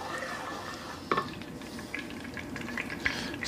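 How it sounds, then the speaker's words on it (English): Butter gently sizzling in a pan over low heat while it is swirled, a soft steady crackle with a few brief scrapes and clinks of the pan, close by with no talking. "This is my butter on low heat. I just swirl it every so often."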